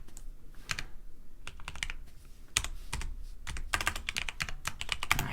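Close, quiet computer keyboard typing comes in irregular clusters of clicks with short gaps, speeding into denser bursts toward the end.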